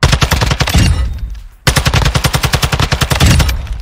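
Gold-camo TAQ 56 assault rifle firing in a video game shooting range, two loud sustained bursts of rapid automatic fire split by a brief pause, close and alone.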